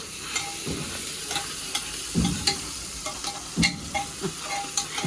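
Onions or aromatics sizzle in hot ghee in a pan, with a spatula scraping and stirring in regular strokes. Close and steady, no voices.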